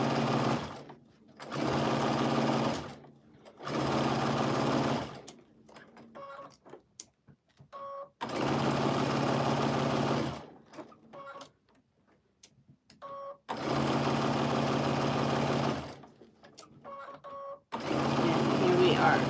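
A sewing machine stitches a quarter-inch quilt seam in several loud bursts of rapid whirring, separated by pauses with soft handling noises and occasional short clicks.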